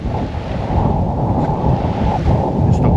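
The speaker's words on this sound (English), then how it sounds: "It's only the wind." Strong wind on a cold, wet west coast of Tasmania, a loud, continuous roar buffeting the microphone, rising slightly toward the end, no voices heard.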